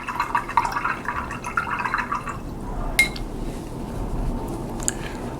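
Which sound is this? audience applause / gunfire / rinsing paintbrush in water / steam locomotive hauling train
rinsing paintbrush in water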